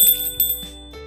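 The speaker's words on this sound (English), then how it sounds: "and ring the bell." A notification bell sound effect rings out, a clear tonal chime with sustained ringing overtones and a couple of quick repeated strikes, close and loud with no voices.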